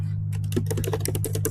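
Quick bursts of keystrokes on a computer keyboard, a rapid run of close, crisp clicks over a low steady hum.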